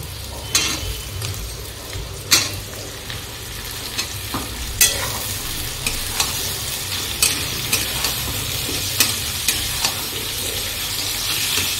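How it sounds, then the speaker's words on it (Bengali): Potatoes and onion fry in a pan with a constant loud sizzle, punctuated by regular sharp scrapes and clinks of a spatula roughly every second. "আলু আর পেঁয়াজটা ভাজবো"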